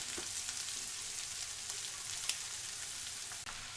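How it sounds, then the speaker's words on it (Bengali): Spinach with prawns cooks in a pan, a steady low hiss of frying carrying on throughout, faint and even, with one small clink near the middle. "এখন আমি পালং শাকটা দিয়ে দিব"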